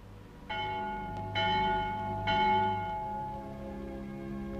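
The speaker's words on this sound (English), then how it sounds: "The Vespers bell." A church bell rings for vespers, three resonant strikes about a second apart, each blooming into a long ringing hum that layers over the last, fairly close and clear with no talk.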